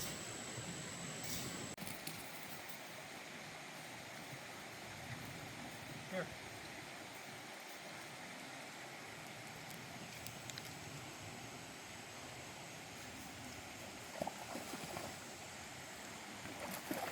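Citico Creek in the Smoky Mountains flowing past a campsite, a steady broadband rush and babble of water that holds even throughout, fairly close, with no talk over it.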